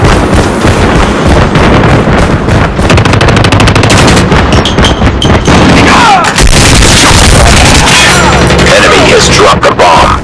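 Call of Duty Mobile match gunfire: rapid, loud automatic bursts and repeated shots crowd the whole stretch, with brief gaps and explosive thuds layered over game effects.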